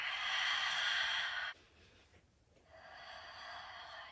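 Slow, deep breathing close to the mic: a long airy exhale, a short pause, then another soft breath, with no talking.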